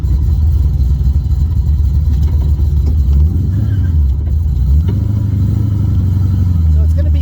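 A 2014 Ford Shelby GT500 with a T56 manual gearbox cruises under its own power, its engine rumbling low and loud with rising and falling revs, heard close from inside.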